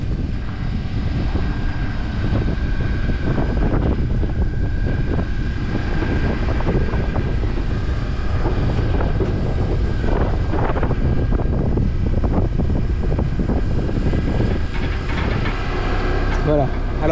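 A steady tractor engine rumble with gusting wind buffeting the microphone throughout, a constant loud noise bed with voices talking underneath.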